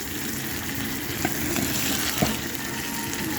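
Okra frying in a pan with curry leaves gives a steady, dense sizzle close by, with a couple of brief crackling pops and no voices.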